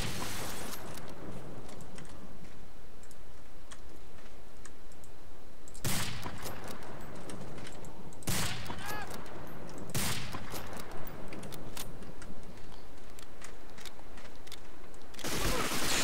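MG42 machine gun from Medal of Honor Allied Assault firing in a game, with several loud bursts breaking through a steady background of clicking and ambient noise, the heaviest around the middle and at the end.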